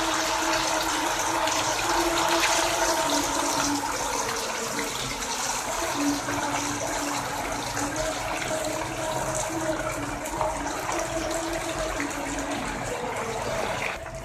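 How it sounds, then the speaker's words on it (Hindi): Marinated chicken deep frying in hot oil in a pan gives a steady, dense sizzle and bubbling hiss, close and continuous throughout. "अब हम इसको इसमें डीप फ्राई करेंगे जो चिकन हमने तैयार करके रखा है।"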